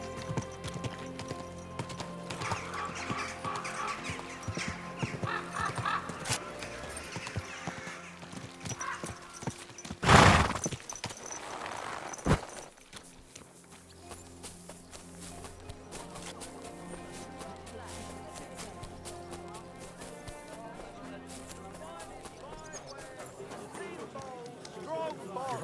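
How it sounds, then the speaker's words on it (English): Horse hooves clip-clopping in a video game town, a steady muffled rhythm under game music and character voices, broken around the midpoint by a loud burst and short pause before the walking resumes. "Easy, good horse."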